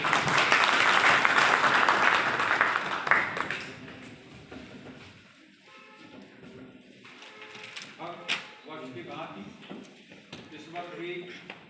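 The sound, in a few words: audience applause at agricultural event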